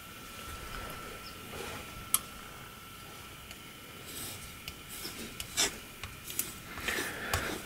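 A grafting knife is stroked steadily across a fine 4000-grit whetstone, making a soft, continuous gritty rubbing with a few light ticks toward the end, close but faint.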